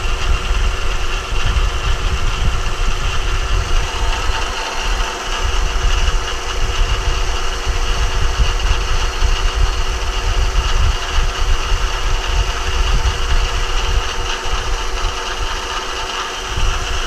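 A CNC machine cutting with a one-inch carbide cutter during a fire pit cover build, a loud continuous mechanical roar with steady low rumble throughout, no speech.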